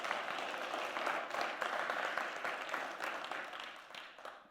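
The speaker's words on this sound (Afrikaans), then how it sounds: "Kom maar, gee God 'n hande klap." A church congregation claps for God in a sustained round of hand clapping. It is fairly distant and blends into a continuous wash with no speech.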